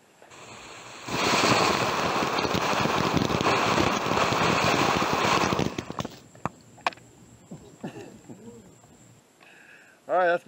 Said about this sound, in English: This is one of those fountains that's got the little tube middle of it